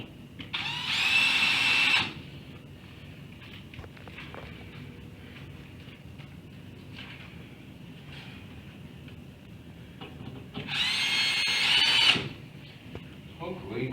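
Power drill driving drywall screws into a backer behind a drywall patch, two loud whirring bursts near the start and near the end, with quieter handling noise and a voice speaking between them.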